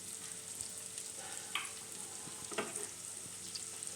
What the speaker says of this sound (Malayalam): ഒന്ന് വഴറ്റിയെടുക്കണം